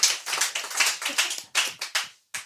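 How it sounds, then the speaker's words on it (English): A short burst of hand clapping, loud and close, with a steady rhythm of sharp claps that pauses briefly near the end before a final clap. "Clap it up."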